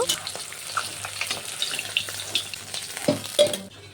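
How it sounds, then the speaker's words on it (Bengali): Sarpunti fish sizzle steadily in hot oil at close range, broken by soft stirring scrapes and a couple of sharper clatters near the end. "বাকি মাছটিকে একইভাবে ভেজে নেব।"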